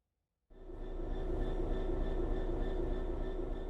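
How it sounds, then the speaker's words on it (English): A BR Class 66 diesel-electric locomotive in the video game Train Sim World 4 cuts in after half a second of silence with a loud, steady engine drone that holds evenly to the end. "This is a BR Class 66 diesel-electric locomotive,"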